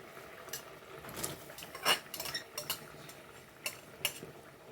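A spoon stirring okra in hot oil in a pan for okra masala: faint scrapes and light clinks against the pan, with a soft sizzle underneath.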